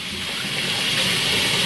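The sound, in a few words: washing potato greens in water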